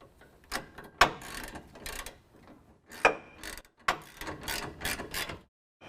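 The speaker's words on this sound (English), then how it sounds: "we're going to use a 3/4 socket and wrench to tighten down the 2 larger bolts" Ratcheting clicks of a 3/4 socket wrench tightening the larger bracket bolts while mounting an ICI Magnum rear bumper on a 2017 Chevy Silverado 2500, heard as several short bursts of clicking with brief pauses between strokes.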